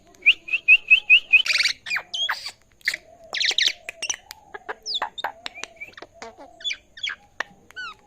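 A common myna calls close by in a varied run of sharp chirps, whistles and chattering squawks, with repeated rising notes at the start.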